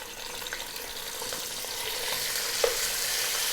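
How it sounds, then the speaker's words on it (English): Beef drops into hot oil with cardamom pods over high heat for an Arab-style beef stew, giving a steady close sizzle and crackle with a few sharp pops. "We're then going to get our meat, our beef, and we're going to drop that in."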